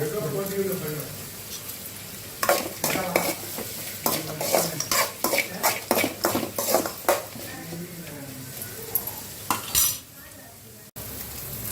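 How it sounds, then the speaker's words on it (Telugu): Chopped onion fries in a pan with a pinch of salt while a spoon stirs in quick, rhythmic scraping strokes over a soft sizzle, with a voice speaking at the start and again toward the end. "కొంచెం ఆనియన్ ఫ్రై అవ్వడానికి కొంచెం సాల్ట్ వేసుకుందాం"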